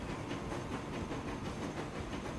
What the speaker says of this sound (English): Next train coming in.